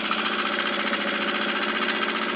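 A Johnson F2R four-stroke outboard motor idles in neutral, a steady, even hum with a smooth low-pitched drone and no revving, heard close up with no voices over it.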